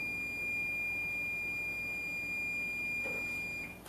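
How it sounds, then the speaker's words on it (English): A loud kitchen timer sounding a steady, high-pitched electronic beep that carries on without a break for several seconds in a home kitchen. "I really should get a quieter timer."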